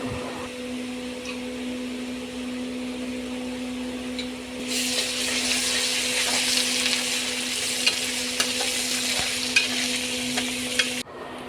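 Onions cooked with ginger garlic paste fry in a pan for a beef liver and kidney dish, a steady sizzle under a constant hum that grows louder and hissier midway, with occasional scraping taps from stirring.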